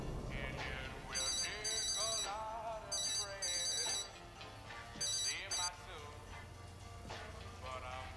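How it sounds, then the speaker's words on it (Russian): Electronic telephone bell rings in repeated short trilling bursts, several rings spaced a second or so apart, under a music score and voices talking in a dramatic TV scene. "Ответь, Джон."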